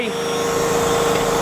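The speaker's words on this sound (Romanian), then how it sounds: "Aspiratorul încă funcționează." A steady, loud whine with a constant high tone and broadband roar runs throughout, a vacuum cleaner motor running close by, powered by a Daewoo GDK3600 3.3 kW portable generator.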